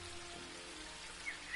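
Rain falling in The Book of Unwritten Tales 2, a soft steady hiss of raindrops on surfaces, faint and even throughout.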